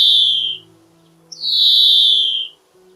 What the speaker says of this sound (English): And this one is a European greenfinch.